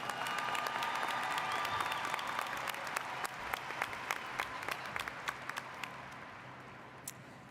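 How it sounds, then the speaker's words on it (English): An audience applauds at a graduation ceremony with dense, sustained clapping that thins into scattered individual claps toward the end. "Let's give all of these amazing students a round of applause for their accomplishments."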